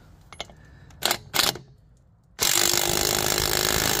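A DeWalt Atomic impact driver fitted with a chrome socket gives two short, sharp bursts, then runs into a loud, sustained rattling hammer close by.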